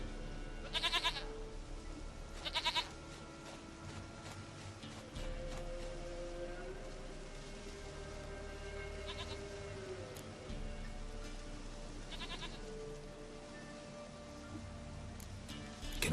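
A goat in The Witcher 3 lets out several separate bleats, spread across the clip at irregular intervals, set against steady in-game music and ambience.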